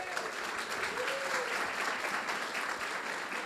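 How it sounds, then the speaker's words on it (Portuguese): A church congregation at a district discipleship gathering claps together in a sustained, even round of applause, moderately loud and continuous with a faint voice briefly audible underneath. "Dá uma salva de palmas para Bom Jardim."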